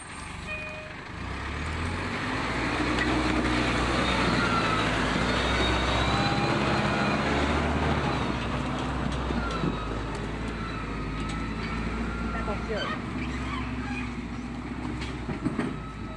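A super-heavy loaded truck labours uphill, its deep engine drone rising and holding steady with rattling and clanking over the rumble, loud and close throughout with no voices.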